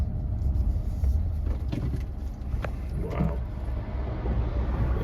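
A truck speeds along a rough highway, its engine and tire roar a steady low drone heard from inside the cab, with brief rattles and a single exclaimed word from a person aboard.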